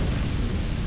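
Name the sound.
explosion in video game Hard Truck Apocalypse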